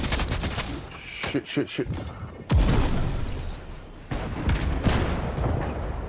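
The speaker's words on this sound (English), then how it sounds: "Where are people shooting from?" Gunfire crackles in a Fortnite match, with bursts of close shots and a heavy blast midway, followed by sustained distant rattling fire; a voice briefly exclaims over it.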